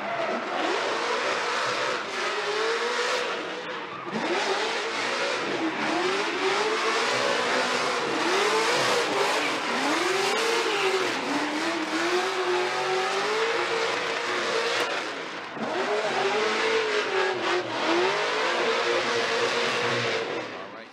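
Formula Drift ProSpec drift cars, including a Nissan 370, rev hard and slide through outside zones, engines rising and falling in repeated loud surges with tire noise, continuous and close throughout.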